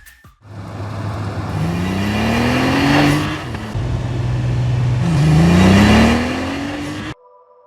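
A 2026 Porsche 911 Turbo S with a titanium sport exhaust and 3.6-liter boxer engine revs loudly and close by in two rising pulls, the engine note climbing sharply with a throaty roar before cutting off abruptly.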